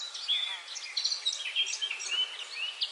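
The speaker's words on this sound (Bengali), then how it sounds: "রাতের নীরবতা ভেঙে পাখিরা কিচিরমিচির শব্দে ডাকতে শুরু করলো।" Cartoon birds chirp at dawn as night ends: steady small, high-pitched twitters and tweets, close and moderately quiet, with no other sounds beneath.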